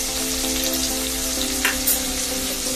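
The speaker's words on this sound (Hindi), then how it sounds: "जल्दी फ्राई हो जाते हैं टमाटर नमक डालने से" Tomatoes and onion sizzle in a hot pan with salt for a village-style Maharashtrian black chicken curry, a loud steady crackling fry throughout with a couple of brief stirring scrapes.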